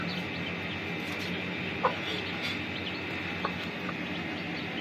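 A hen with her chicks outdoors, with soft, faint clucks and a couple of short chirps scattered over a steady background hum, no speech.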